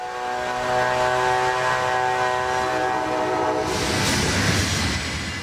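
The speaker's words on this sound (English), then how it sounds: "Amtrak train number 6, the California Zephyr, passes on the main line" Amtrak's California Zephyr passenger train, number 6, passes on the main line: a loud, sustained horn-like drone and rumbling roll give way to rattling, clattering wheels on track as the cars go by.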